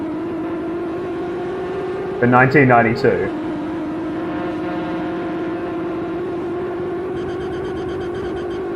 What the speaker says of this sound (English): Engines sound pretty good, actually.